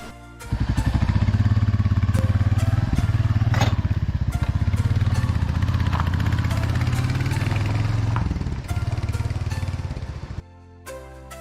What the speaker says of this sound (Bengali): এখন আমরা আবার এখান থেকে স্টার্ট করবো বাইক নিয়ে